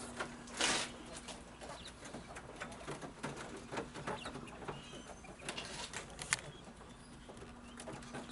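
Nearly full-grown farm-raised birds in a pen give soft, scattered clucks and coos, quiet and fairly close, with no talking.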